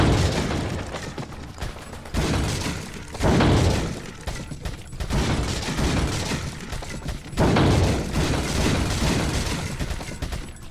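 Bursts of gunfire in Resident Evil 4, dense volleys of shots and impacts in several loud waves, separated by short quieter gaps.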